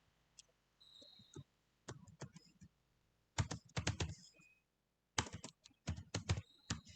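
Code being typed on a computer keyboard, in short bursts of rapid key clicks separated by brief pauses, close and fairly quiet, with no talk over it.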